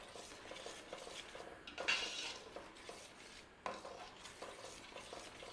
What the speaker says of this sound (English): So you just got to keep giving it a gentle stir,